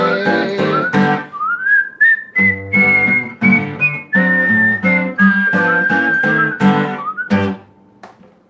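A clear, melodic whistled tune carries over a steady backing of plucked, rhythmic accompaniment, bright and close throughout.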